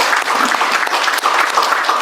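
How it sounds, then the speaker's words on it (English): A full audience gives a steady round of applause at a UPSC preparation talk, dense and continuous clapping filling the room for the whole stretch with no voices over it. "Give up, one round of applause."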